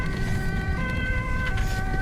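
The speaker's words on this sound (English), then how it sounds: "Okay, sirens on immediately." A Dutch ambulance siren blares loud and close, steady overlapping tones with no pauses and no talking.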